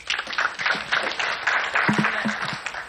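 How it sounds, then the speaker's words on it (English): An audience applauds at a small and medium business celebration event in Kenya, a dense, steady patter of clapping lasting about three seconds with a brief voice near the end. "Let's clap for her."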